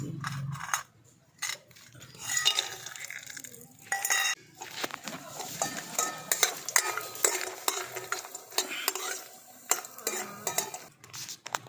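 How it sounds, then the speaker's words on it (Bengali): Homemade biuli dal bori, lentil dumplings, frying in hot oil with repeated stirring, utensil scrapes and clinks of a metal pan over a faint hiss, up close with no talking. "এই বড়িগুলোকে আমি ভেজে নিচ্ছি"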